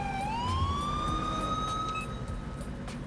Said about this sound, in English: All right, that CHP siren is on point though.